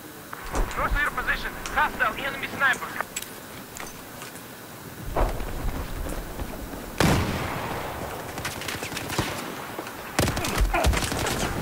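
Battlefield 4 gameplay gunfire crackles in rapid bursts and scattered single shots, with one sharp louder blast midway. A voice talks over it.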